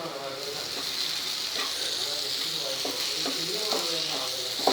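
Onion frying and sizzling in a pan, with a steady hiss throughout and occasional scraping stirs; a vegetable dish is being cooked at home.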